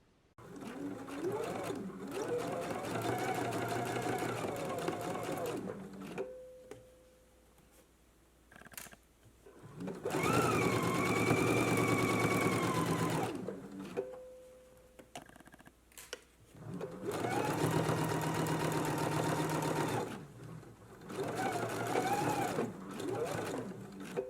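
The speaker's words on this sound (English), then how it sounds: "we can stitch this down using a straight stitch at a 1/4 of an inch" A sewing machine runs a straight stitch along a lapped seam in bursts, whirring steadily for several seconds at a time, then pausing with soft clicks between runs, close and clear.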